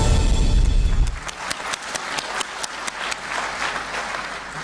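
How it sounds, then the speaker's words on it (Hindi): An audience at a panchayat award ceremony applauds, dense loud clapping at first, then thinning into scattered individual claps that carry on quietly. "जिस तरह आपने अपनी तालियों के साथ हर एक नाम को प्रोत्साहित किया"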